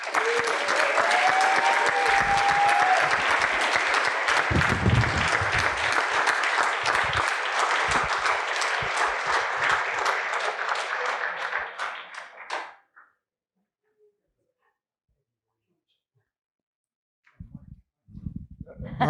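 Sustained, loud applause from an awards ceremony audience congratulating winner Michael Busby at the Polaris Star Awards, thick clapping lasting about twelve seconds before cutting off to near silence, with faint shuffling and a brief voice near the end.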